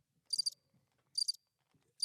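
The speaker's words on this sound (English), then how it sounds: "Can you hear the crickets?" Crickets chirp in short repeated bursts, each a quick trill of pulses, spaced about a second apart, clear and close against near silence.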